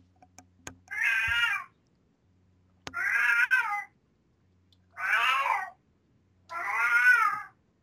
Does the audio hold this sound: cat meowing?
yes